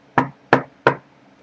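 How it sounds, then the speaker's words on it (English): Three sharp knocks on wood, evenly spaced and close by, each short and crisp against near silence. "knock on wood."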